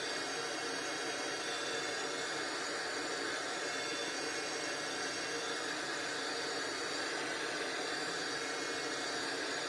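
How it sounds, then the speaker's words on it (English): A heat tool blowing hot air to dry glue on a stamping craft project, giving a steady, even whooshing roar that stays constant and close for the whole stretch with no talking. "So I'm going to use my heat tool to speed it up."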